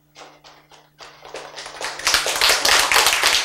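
A small group of listeners in a lecture hall claps, starting with a few scattered hand claps and building into fuller, faster clapping over a few seconds. A low steady hum runs beneath.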